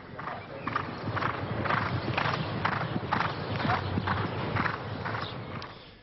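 Racehorses' hooves beat in a rapid, regular clip-clop rhythm, moderately loud, with crowd noise and commentary blended behind them.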